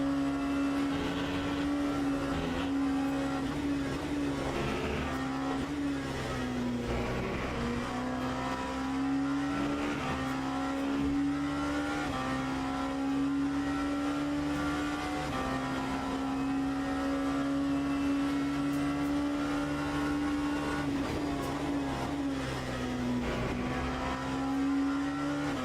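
GT3 race car engines in the racing game Le Mans Ultimate, a steady loud drone that rises and dips through gear changes for the whole stretch, with no talk over it.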